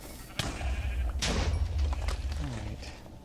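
Sheep in the video game Minecraft, a couple of short bleats late in the clip amid loud thumps and game sound effects, with some voice activity in the background.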